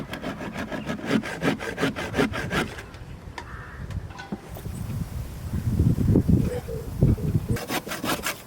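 A hand saw cutting wood during a boat restoration on an Ohlson 38, rapid rhythmic rasping strokes close by, pausing midway before resuming, with wind noise in the background.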